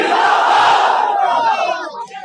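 Large crowd at a political rally in Kanpur shouting a slogan together, a loud massed roar of voices that fades and thins toward the end.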